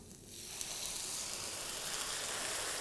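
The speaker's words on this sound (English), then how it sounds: "I'm going to add my passata." Passata poured into a hot pan of softened golden onions sets off a steady, close sizzle and hiss that swells within the first half second and holds evenly throughout, with no talking.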